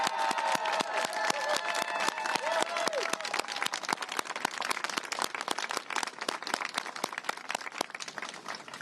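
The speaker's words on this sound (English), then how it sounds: "Let us applaud you." A large audience at a local leaders' rally supporting abortion rights bursts into sustained, dense clapping, loud and continuous throughout with some crowd noise mixed in.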